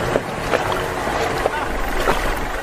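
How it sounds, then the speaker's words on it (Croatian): A rotten wooden rowing boat carrying seven passengers is towed off Zanzibar by a motor canoe with outriggers. A steady, close wash of engine and water noise runs throughout, with wind buffeting the microphone. "Sedam putnika u trulom čamcu na vesla, četiri naprijed u čunu s motorom i potpornjima koji nas vuče"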